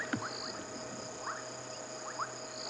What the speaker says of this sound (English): I can hear dwarf puddle frogs